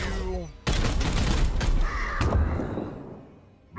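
Rapid weapon fire crackles in the tactical game Warhammer 40,000: Chaos Gate - Daemonhunters, with a dense burst of shots followed by a second volley. A brief voice sounds at the start, and the firing fades to quiet near the end.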